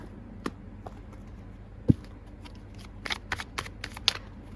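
Tarot cards are shuffled and laid out close up: soft riffling and sliding, a sharp slap, then a quick cluster of flicks and taps as cards are set down. No one speaks.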